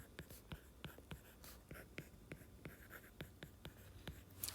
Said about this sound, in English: So I'm going to write my equation down again.